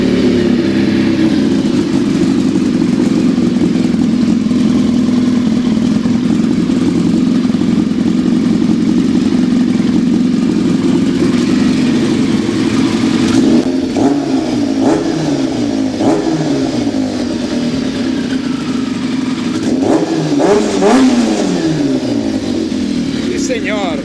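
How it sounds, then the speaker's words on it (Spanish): A homemade cross kart engine idles with a steady mid-pitched drone, then revs up sharply in several rising bursts and drops back, loud and close throughout. "Vamos a encenderlo y ver cómo acelera y regresa esta vez ahora."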